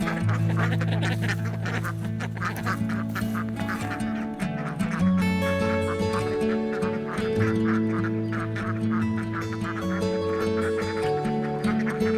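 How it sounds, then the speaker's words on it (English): A group of ducks quacks loudly and close by on a winter homestead morning, with overlapping honking calls that carry on throughout. "Good morning, duckies."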